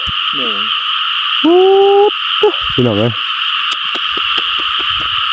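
Frogs croak in a field in a run of loud, close, throaty calls over a constant high droning chorus, with a voice speaking briefly among them.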